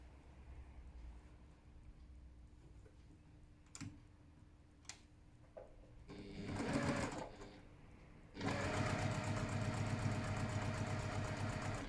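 A sewing machine stitches a pieced quilt block. A brief run of stitching gives way to a steady, fast mechanical whirr that continues close up to the end, with a few soft clicks and rustles before it.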